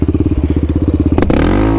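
A Raptor 700 ATV on bald tires thumps along at idle in an even, rapid beat, then revs up sharply into a loud rising roar as the front lifts into a wheelie.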